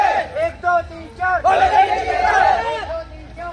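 A crowd bustles at a Shivaratri temple fair, with loud overlapping chatter, shouts and cheering voices close by forming a dense, excited hubbub.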